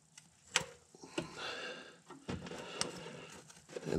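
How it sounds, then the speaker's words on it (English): A ratchet clicks in quick irregular bursts while turning the crankshaft bolt on a 2012 Ford Fiesta during a timing belt job, faint close ticks and scrapes with short pauses between strokes, no voices. "Put a ratchet on your crank."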